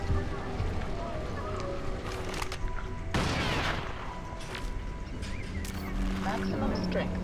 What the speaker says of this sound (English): there's also a shotgun that you can suppress